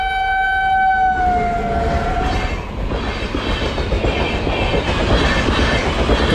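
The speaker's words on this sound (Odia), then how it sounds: "ଦୂରରେ ଗୋଟେ ଟ୍ରେନ୍ ଆସୁଛି, ସେଥିଲାଗି ଏଇ ଫାଟକଟି ପଡ଼ିଛି।" A train approaches a railway level crossing at Haripur village junction with its horn blaring at the start, then the loud, rising rumble and rattle of rail cars passing close by.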